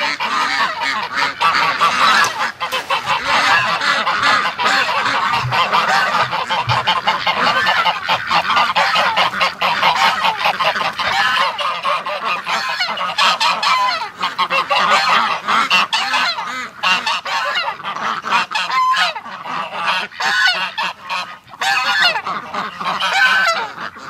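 Dense, continuous honking and calling from a crowd of fowl during duck hatching fills the whole stretch, loud and close, with no talk over it.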